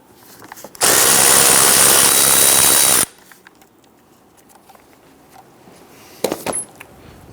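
A power drill whirs in one steady, loud burst for about two seconds as it backs out an 8mm bolt holding the lower air box on a 2011-2019 Ford Explorer, followed by quieter clinks and handling noises.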